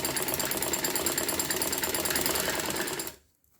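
A sewing machine runs steadily, stitching the side slit of a kurti with a continuous loud whir for about three seconds before stopping abruptly into near silence.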